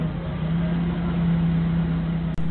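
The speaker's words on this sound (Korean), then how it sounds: "제가 후진을 하니까 역시 차도 같이 후진을 합니다" A forklift reversing while towing a 3.5-ton grab truck, its engine giving a steady low drone that holds evenly throughout, with a brief dropout near the end.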